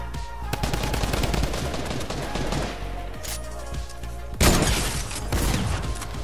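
Heavy sniper rifle fire in an online shooter game, a dense rapid run of sharp cracks and reports, one especially loud blast near the end, close and punchy.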